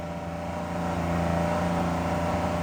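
A 2006 Ford 6.0 Powerstroke diesel engine at a rough fast idle, the RPM wavering up and down around 3,300 to 3,500: a steady, loud, close mechanical drone with a slowly rising and swelling pitch, no voices.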